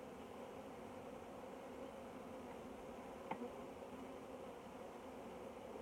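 Honey bees buzz around an open hive frame in a soft, continuous drone, faint and even, with one brief click partway through.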